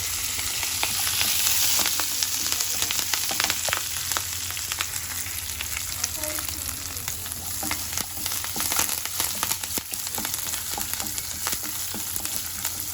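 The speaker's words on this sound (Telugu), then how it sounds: "ఎండుమిర్చి, పచ్చిమిర్చి అంతే. ఇవన్నీ వేస్తున్నాను." Dried red chillies and green chillies fry in hot oil in a pan, a loud, continuous crackling sizzle close by, dotted with sharp pops and spatters for the whole stretch.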